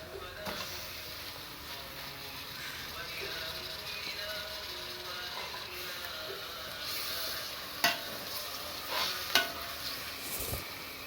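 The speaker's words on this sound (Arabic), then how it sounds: "انا بستنى تقلية الخضرة مع البصل بتاعي" Chopped vegetables and onion frying in a pan for stuffed cabbage rolls give a steady soft sizzle with occasional scrapes and clicks of a utensil, close by and moderately quiet.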